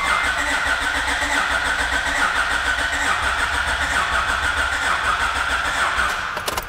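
A 2004 Acura TL with a replacement 3.2-litre engine cranking for a long stretch: steady, continuous starter whirring close by, unbroken for several seconds without catching, no voices.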